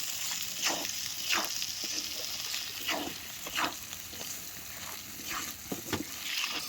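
Spice paste frying with salt and turmeric for chicken kosha, a steady close sizzle broken by several sharp scraping strokes of a spoon against the pan across the whole stretch, with no voices.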